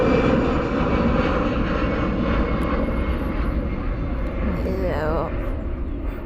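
An AirAsia Airbus A320 takes off at Perth Airport, bound for Bali, with a loud, steady broadband jet roar that holds throughout and a voice surfacing briefly near the end.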